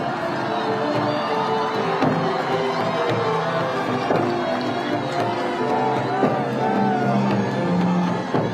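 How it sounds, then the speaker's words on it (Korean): A Seoul campaign rally crowd for Kim Moon-soo cheers and applauds, a dense, steady roar of clapping and shouting with scattered whoops holding loud across the whole stretch. "네, 다시 한번 큰 박수 부탁을 드리겠습니다."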